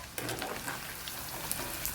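Chicken fries in hot oil until crisp for chicken mango, giving a steady close sizzle with crackling pops throughout and no talking.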